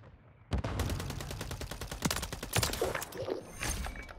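Rapid automatic fire from the Holger 556 rifle in Modern Warfare 3 bursts out after a brief quiet start, a sustained stream of sharp shots with a few heavier impacts, loud and close.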